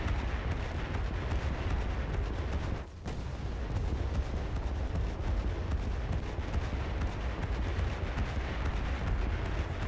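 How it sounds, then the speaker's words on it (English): A naval anti-aircraft gun fires in the War Thunder video game, a dense, continuous barrage of rapid booming shots that runs without letup, dipping only momentarily near the start. "The Stag has open fire."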